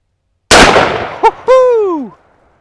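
A single sharp, very loud report from a Taurus Raging Hunter .460 revolver, fired one-handed outdoors, cracks and rings out before a person lets out an excited whooping shout.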